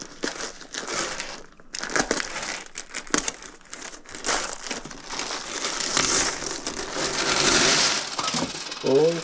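A pile of coins is tipped out for sorting, with loose metallic clinking, rattling and crinkling that builds into a denser cascade toward the end.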